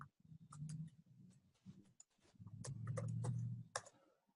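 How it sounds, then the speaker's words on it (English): Keys clatter on a computer keyboard at a desk, sparse bursts of quiet clicks with pauses between them, faint and close, under a low hum. "I am terrible at talking and typing at the same time"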